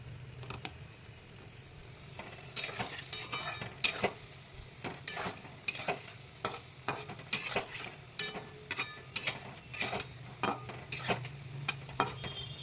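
Palm fruit fritters (taler bora) fry in hot oil with a steady sizzle, while a utensil stirs and turns them with frequent sharp clicks and scrapes close by.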